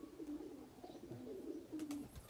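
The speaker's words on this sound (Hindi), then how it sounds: "ये देखें ना अभी खुड्डे से बाहर अभी निकल भी रहे हैं कबूतर" Domestic pigeons coo softly at their coop, giving several low, rolling calls with a few faint flutters and clicks around them. The sound is quiet, with no talking.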